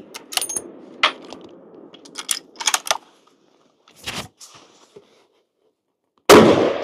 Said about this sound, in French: On fait juste tirer 5 coups.